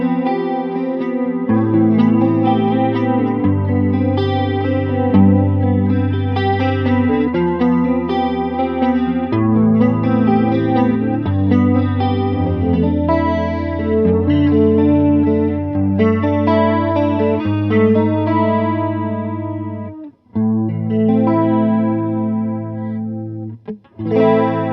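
An electric guitar plays chords and melodic lines through an Arion SCH-1 stereo chorus pedal, giving a shimmering, wavering doubled tone. It rings loud and sustained, with a brief pause near the end before the playing resumes.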